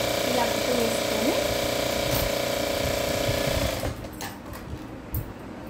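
A sewing machine runs a steady, fast mechanical chatter while stitching doubled piping cloth onto a blouse neck. It stops after several seconds, leaving quieter handling noises and a faint voice.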